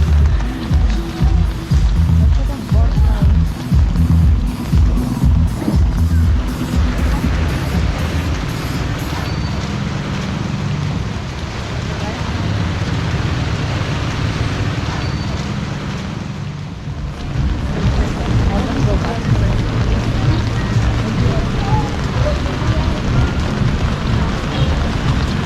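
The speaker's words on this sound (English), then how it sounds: "the rain, like, it picks up and it drops off." Heavy rainy-season rain pours down on a Manila street, a steady dense hiss of drops on surfaces with low rumbling traffic underneath, continuous and fairly loud throughout.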